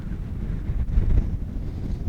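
Gusty wind buffets the microphone at a mountain lakeside camp in winter, a steady low rumble with a brief stronger gust midway, no voices.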